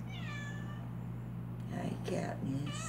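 A house cat meows in a kitchen, a couple of short soft calls over steady background hum, with people talking nearby.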